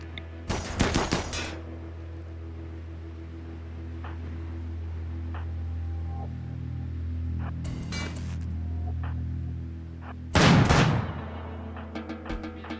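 Automated turret in RimWorld firing at raiders: three short, loud clusters of rapid shots separated by several seconds of low steady hum, with faint ticks between them.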